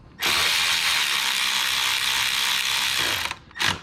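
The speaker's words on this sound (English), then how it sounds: "We're gonna use a proper torque wrench to do the job here, because this thin aluminum casing takes even less torque." A torque wrench is tightening screws on the thin aluminum clutch casing of a Triumph Tiger/Sprint ST motorcycle. A close, continuous mechanical ratcheting whir runs for about three seconds, then a short second burst follows.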